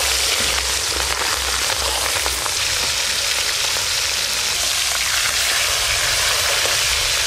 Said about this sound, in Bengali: এবার মাছের মাথাগুলো ভেজে নেব।